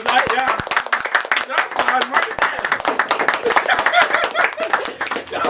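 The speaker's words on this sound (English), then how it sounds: "Let's give everybody a round of applause for coming out tonight." An audience at an evening event claps in sustained, dense applause that stays loud throughout, with scattered whoops and chatter mixed into the crowd noise.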